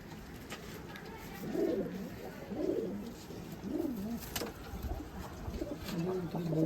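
Desi pigeons coo on a rooftop in Pathankot, with soft, repeated rolling coos rising every second or so over faint background noise and a quiet voice.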